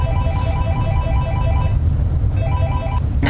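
A phone ringtone chirps in repeated short melodic bursts over a low rumbling background, pausing briefly before starting again.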